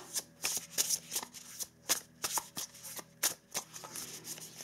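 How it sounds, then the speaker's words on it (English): Love-story oracle cards are shuffled by hand in a series of crisp, close riffling bursts with short pauses between them and no talking over them. "I would like to pull a couple of cards from this love story oracle"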